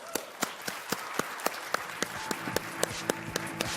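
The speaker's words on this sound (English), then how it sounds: "So another round of applause." Sparse, rhythmic clapping at an indie game awards event, sharp, evenly spaced claps, sounding like a few people applauding rather than a large crowd, with faint tonal background.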